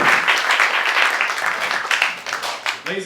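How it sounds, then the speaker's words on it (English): Audience at a comedy roast of William Shakespeare during the Ashland Sarcasm Festival breaks into loud close applause and cheering that thins out near the end. "big round of applause"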